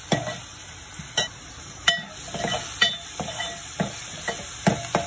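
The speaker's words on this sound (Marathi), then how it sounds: "कांदा थोडासा आपल्याला ब्राउनिश कलरपर्यंत येईपर्यंत परतून घ्यायचा" Salted onion sautés in a pan for prawn chutney with a soft sizzle, broken by sharp clinks and scrapes of a stirring utensil at irregular intervals, close and dry-sounding with no voices.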